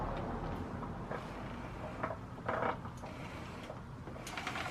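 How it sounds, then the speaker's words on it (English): Faint metallic clicks, rattles and a scrape come from a chain and axle being removed from an Alta Redshift SM electric motorcycle's rear wheel, close but quiet over a steady background hiss, with no talking. "Or you just take the axle out and take the whole chain off."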